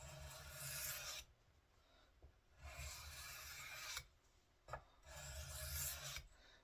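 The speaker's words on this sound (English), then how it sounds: "when you got a considerably shorter blade, you can sharpen it a lot faster" A short knife blade being sharpened: three long bursts of dry, rasping strokes, each a few seconds, separated by brief pauses, close and steady.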